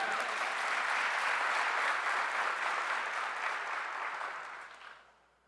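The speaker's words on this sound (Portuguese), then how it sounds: "aplauda o Senhor aí em nome de Jesus, você que ama Jesus" A church congregation applauds, a broad, continuous patter of many hands clapping that holds steady for several seconds and then fades away toward the end.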